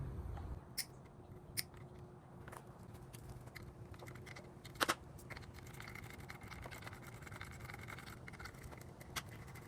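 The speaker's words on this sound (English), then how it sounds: "First, let's cut these zip ties." Zip ties cut with cutters while removing the front fork of a 2024 Hawk 250X motorcycle: a few faint, sharp snips spaced seconds apart over a quiet workshop background.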